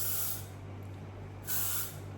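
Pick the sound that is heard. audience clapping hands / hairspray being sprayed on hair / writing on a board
hairspray being sprayed on hair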